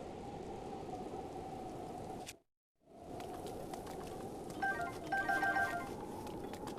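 Steady soft rainfall in The Legend of Zelda: Breath of the Wild, a continuous hiss that cuts out briefly and returns with faint game chimes over it.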